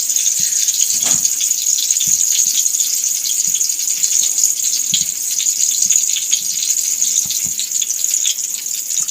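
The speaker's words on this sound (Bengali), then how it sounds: "জল ঢেলে মশলাটাকে ভালো করে হাত দিয়ে মিশিয়ে দিলাম" Water poured into fish masala and mixed by hand, a steady bright hissing stream with scattered soft rattles and squelches throughout, no voices.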